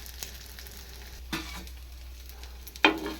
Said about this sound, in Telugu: చూడండి ఫ్రై అవుతున్నాయి.